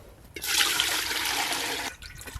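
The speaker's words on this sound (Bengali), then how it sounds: "এই হাঁড়িটাতে এবার জল দিয়ে দেব" Water poured into a cooking pot for steaming katla fish belly makes a steady, close rushing splash for under two seconds, loud and alone.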